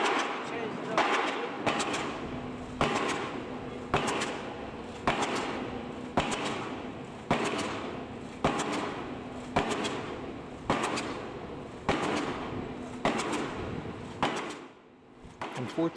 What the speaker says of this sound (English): The loud banging noise you hear is a large weight hitting the piling, forcing it deeper into the ground.